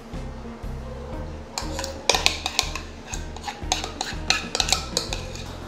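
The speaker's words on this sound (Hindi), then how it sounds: "अब इसको प्यूरी में मिक्स कर दें।" A spoon stirs cream into mango puree in a bowl for homemade mango ice cream, giving a steady series of clinks and scrapes against the bowl, close and clear, over soft background music with no talking.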